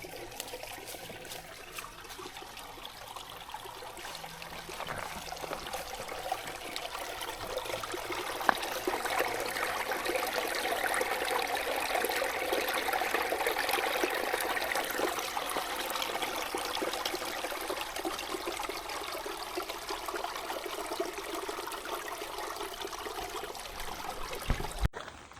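Cold spring water runs out of rocks in Weiser State Forest, a steady close trickle and splash that swells slightly midway and carries on for about twenty-five seconds, with no talking.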